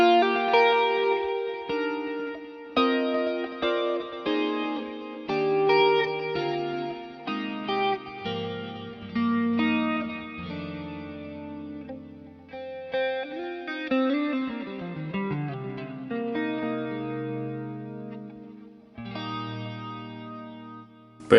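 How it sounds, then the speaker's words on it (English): An electric guitar is played through an amp pushed by a boost pedal, giving a chorused, slightly driven tone with echo as a series of picked notes and chords rings out, moderately loud, with no talking. "you can hear in real life essentially what it does is this similar sort of thing"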